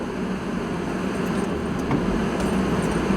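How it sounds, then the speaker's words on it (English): A car engine idles steadily inside a 2019 WashTec SoftCare2 Pro Combiwash car wash, a constant low rumble with faint mechanical hiss and occasional light clicks, heard close and without any talking. "Got the engine going already"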